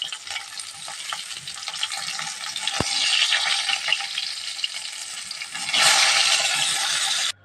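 Katla fish pieces fry in hot oil with a steady close sizzle, a single sharp tap partway through, and a louder burst of hissing near the end before it cuts off.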